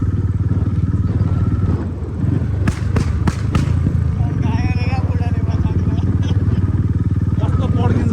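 A superbike engine revs hard, loud and close, with a few sharp pops and cracks in the middle, over a steady rumbling idle; a voice is faintly mixed in.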